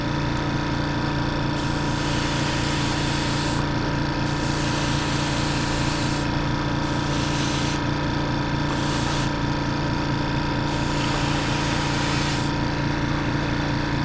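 An air compressor in a model-building workshop runs continuously, a steady mechanical hum with a pulsing motor beat and hissing air spray that cuts in and out, close and even in level, without speech.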